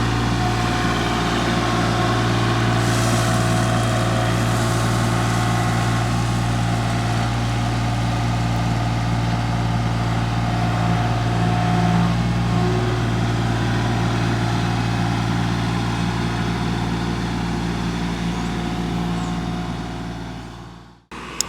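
A tractor engine runs steadily while spreading #57 gravel for a walkway, a loud constant low rumble close by that holds for about twenty seconds before cutting off abruptly at the end.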